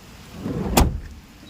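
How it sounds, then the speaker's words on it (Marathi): Car door shutting in the rain, a single sharp thud standing out from the steady hiss of rainfall around the parked car. "लॉक झाली गाडी"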